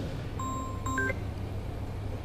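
A mobile phone lets out a short cluster of thin electronic beeps during a Ramadan religious lecture in a large hall, faint against a steady low room hum and over in about a second.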